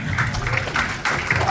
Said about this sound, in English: And that one does deserve some applause.